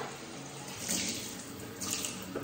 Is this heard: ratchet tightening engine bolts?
no